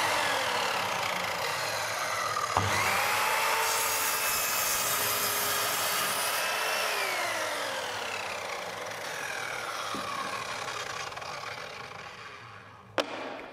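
A power saw with no soft start, running rough, cuts through wood in a sustained, fairly close motor whine. The pitch shifts as the blade loads and frees, and it ends with a sharp knock; no one speaks.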